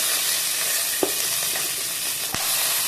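Green chilies, garlic and onion sautéing in a pan for chutney, a loud continuous sizzle with a few faint clicks of stirring.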